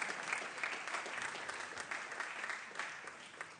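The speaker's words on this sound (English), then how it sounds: "Once more, please, a round of applause for Gabrielle Jackson of Sacramento." Applause fills a state Senate floor session: a steady, dense wash of many hands clapping throughout the chamber, continuous and fairly loud with no voices standing out.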